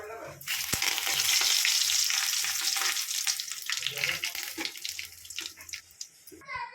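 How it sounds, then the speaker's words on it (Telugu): Mustard seeds and curry leaves thrown into hot oil for a vegetable fry burst into a loud, dense sizzle that slowly fades, with stirring scrapes and light crackles following close by. "నూనె అయితే కాగింది, కొద్దిగా ఆవాలు వేయాలి, కరివేపాకు"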